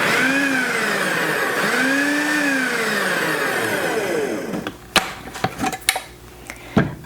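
A food processor pulses one medium onion into chopped pieces for salsa: two long whirring bursts of the motor rising and falling, then several short sharp clicks and knocks as it stops.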